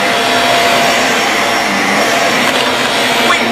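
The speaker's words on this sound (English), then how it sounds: "they had to make the vacuum hit the tech deck." Loud, steady roar of a household vacuum cleaner running nearby, with a thin whine and a faint knock partway through.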